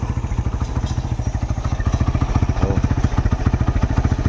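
A Suzuki Mola 150 motorcycle engine, freshly fitted and being broken in, chugs at a steady idle with a rapid even thumping beat, close and loud, and no one speaking.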